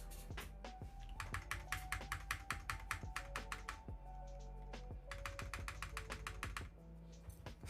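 Rapid, steady keystrokes on a Glorious GMMK Pro mechanical keyboard without case foam, close and crisp, with short pauses between bursts of typing over a low background hum.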